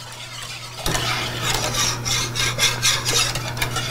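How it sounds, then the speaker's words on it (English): Custard filling of egg yolks and cornstarch stirred in a pot, a spoon scraping and rasping steadily against the metal in repeated strokes over a low steady hum, close and moderately loud. "Keep stirring and stirring until it thickens up."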